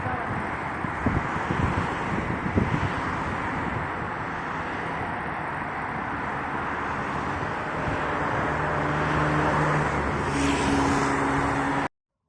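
Road traffic rumbles steadily around a moving vehicle on a city street, with a continuous broadband roar, wind buffeting and a few passing engine swells, while people talk faintly underneath.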